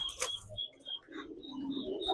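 Pigeons in a pigeon house coo and call softly, with faint short notes scattered over a quiet background and no talking.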